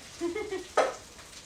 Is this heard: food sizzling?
yes